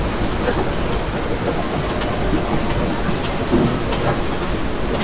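A passenger train in the Open Rails simulator on the Bhusaval–Katni route rolls along with a continuous rumbling rail noise and faint rhythmic clatter, steady and loud throughout, with no voices.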